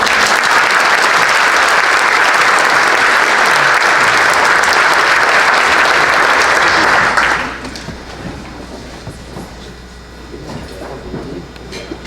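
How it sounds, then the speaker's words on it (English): Sustained applause from a seated audience at a Fort Kent Chamber of Commerce dinner, loud and steady for about seven seconds before dropping away to quiet room murmur. "Please give them a round of applause."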